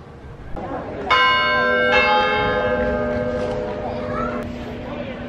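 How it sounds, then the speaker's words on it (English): A church bell in Cadiz, Spain rings loudly from close overhead, with two ringing strikes about a second apart whose tones hang and slowly fade, over faint background chatter. "I was recording the side of that church bell and it's just up there and all of a sudden it shook my core."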